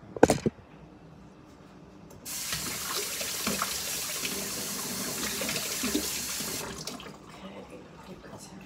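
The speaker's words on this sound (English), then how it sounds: "I have to wash my hands." Tap water runs steadily for about four seconds as hands are washed under it at a kitchen sink while cooking cauliflower salad and pesto chicken, preceded by a brief clatter and ending with a few faint handling sounds.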